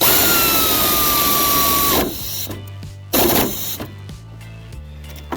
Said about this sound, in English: here we are, pre-assembled with our socket and the pneumatic tool, and here we go.